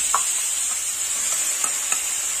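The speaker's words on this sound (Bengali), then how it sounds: "পেঁয়াজটা একটু লাল লাল করে ভাজা হবে" Onion paste frying in oil with bay leaves in a pan gives a loud, continuous hiss, with a few light taps of a spoon over the sizzle.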